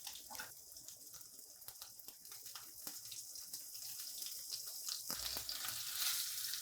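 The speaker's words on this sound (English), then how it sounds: "while my fish is searing off" Steady sizzling and crackling of pecan-crusted white fish searing in hot oil in a pan with fresh thyme, a continuous close frying hiss that grows slightly louder toward the end.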